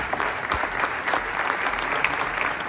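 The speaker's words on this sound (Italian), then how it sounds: "un applauso" Steady applause from a ceremony audience honouring a recipient of the Cavaliere della Repubblica distinction, dense clapping filling the room without voices on top.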